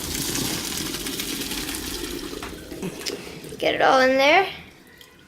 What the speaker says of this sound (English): next you're going to want to drain all the macaroni and cheese in any type of drainer you want